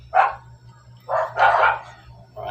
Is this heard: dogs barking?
yes